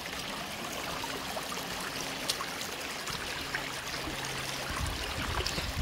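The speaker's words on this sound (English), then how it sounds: "this right here is a perfect example of a glacial river and a clear river coming together" A glacial river and a clear river meet at the East Fork Toklat in Denali, giving a steady, full rush of flowing water that stays constant throughout without a break.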